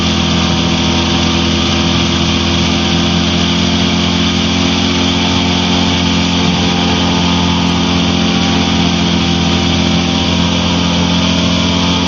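The engine of a Challenger II light aircraft on final approach, a loud, constant, buzzing drone at partial throttle that holds steady throughout with no break.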